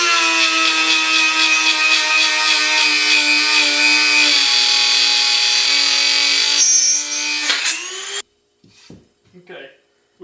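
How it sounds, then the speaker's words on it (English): Power drill boring holes with a countersink bit during taxidermy work, a loud steady motor whine with shifting pitch for about eight seconds, then it cuts out, leaving faint handling noises. "I'm just going to drill holes and then use a countersink bit on my drill"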